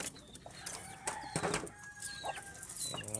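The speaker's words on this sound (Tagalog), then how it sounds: "Siyempre papakain ko rin yung mga kalapate ko dito" Pigeons, a keeper's breeder birds, fluttering and shuffling at close range during a morning feeding, with bursts of wing flaps and scattered clucking or cooing sounds over a steady background.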